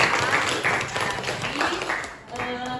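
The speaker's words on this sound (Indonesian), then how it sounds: "kasih aplaus dulu untuk Rafif" Classroom applause for a student, a burst of clapping from a group of pupils that rises and fades over a few seconds, with voices mixed in.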